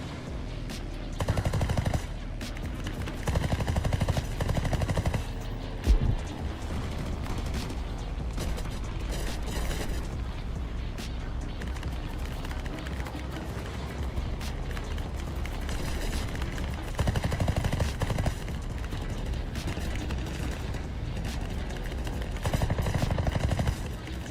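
Aircraft machine guns rattle in long, loud bursts over steady engine drone in the War Thunder combat game, UK air tree, with dense mechanical clatter and repeated heavy firing throughout.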